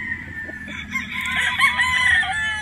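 A Boston Roundhead straight-comb broodstag rooster crows loudly and close by, one long sustained call that rises and holds for about two seconds over a quiet yard, with no talking.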